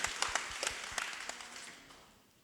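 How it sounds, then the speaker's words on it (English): A short burst of applause from a small group, a handful of sharp claps that thin out and fade within a couple of seconds. "I'll applaud that."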